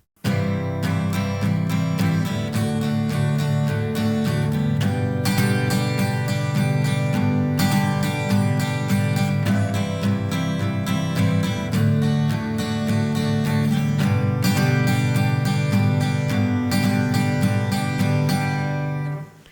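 A guitar strums the steady, driving rhythm part from the solo of a song, dense, full chords, loud and continuous, with no voices.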